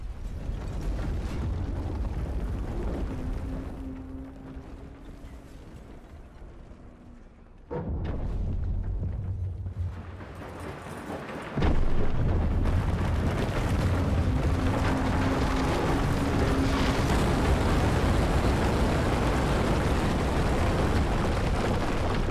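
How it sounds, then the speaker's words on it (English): Explosions from Battlefield 4 gameplay bring down destructible posts, heard as a loud, sustained rumbling roar with booming bursts. The blasts intensify sharply partway through and continue as dense, near, layered explosion noise. "You can destroy these posts with any sort of explosive device or high-powered round."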